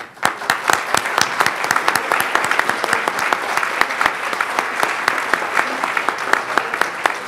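Steady, dense applause from an audience at a formal ceremony honoring an academy's board members, sustained and fairly loud throughout with crisp individual claps and no talk.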